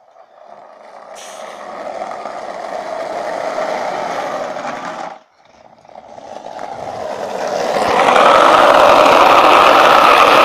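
A vehicle engine revs loudly nearby, building to a roar, cutting off briefly midway, then climbing again to a louder, sustained rev by the end.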